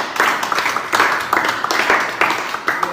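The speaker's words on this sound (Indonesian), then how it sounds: "tepuk tangan buat kelompoknya" Classroom applause for a student group, a dense patter of many hands clapping at close range, steady for a few seconds with no talk over it.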